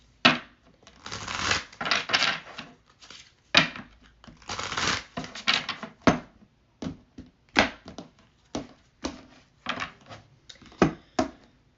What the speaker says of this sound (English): one more stack to shuffle.